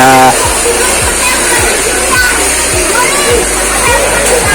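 Continuous flowing water of the Pansol River in Silang, Cavite, a broad steady wash, with a low mechanical pulse repeating roughly every half second beneath it.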